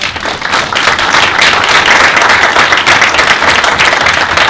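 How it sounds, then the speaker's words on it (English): Panel-discussion audience giving a generous round of applause; sustained, loud clapping from a room full of people, swelling after a brief start and holding steady. "So if we could give a generous round of applause."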